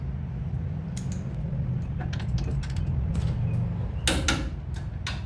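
A torque wrench tightens the rear caliper bracket bolts to 100 foot-pounds on a 2002-2008 Dodge Ram. A few sharp, close metallic clicks and ratcheting bursts rise over a steady low rumble, with the loudest pair near the end.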